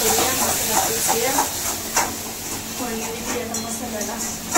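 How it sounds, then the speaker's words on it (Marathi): Spices crackle and sizzle in hot oil as a tempering for Khandeshi patodi bhaji, a steady loud hiss with soft stirring clicks throughout, while someone talks over it. "फोडणी आता मसाल्याला"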